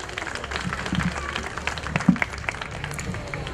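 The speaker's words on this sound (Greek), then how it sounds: "χειροκρότημα στον κύριο Δήμαρχο" Crowd applause for the mayor at an outdoor event on Davaki Square in Kallithea, a moderate, scattered clapping with a few louder claps standing out.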